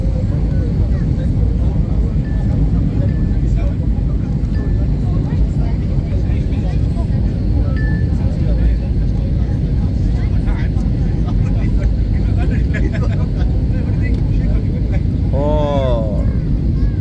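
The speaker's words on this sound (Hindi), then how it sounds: "लैंडिंग के बिल्कुल करीब पहुंच चुके हैं हम।" Loud, constant airplane cabin roar fills the space during the landing approach toward Manchester, a broad steady rumble with faint chimes and someone speaking over it.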